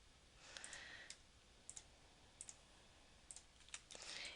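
Mouse clicks and keyboard typing while working in CAD dimensioning software, scattered light taps and short clusters of clicks over a steady quiet background hiss.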